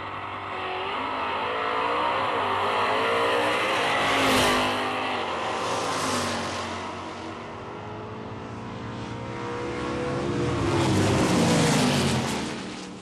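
1960s muscle cars drag racing at a nostalgia event, a Plymouth against a Pontiac Catalina, engines roaring loud and continuous, swelling twice as the cars accelerate and pass, with no talk.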